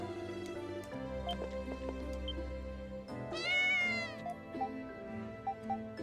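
Game cat in Ys: Memories of Celceta gives a single drawn-out meow midway, heard over steady background music.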